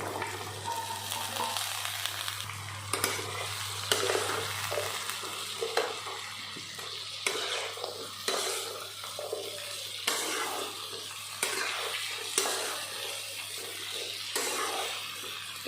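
Chopped taro stolons frying in a pan, a continuous close sizzle broken by repeated scraping stirs, with a low hum fading out early and no voices.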